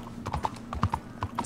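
Horse hooves clip-clop through a town in Red Dead Redemption 2, an irregular run of sharp hoof strikes, close and fairly loud, with faint speech underneath.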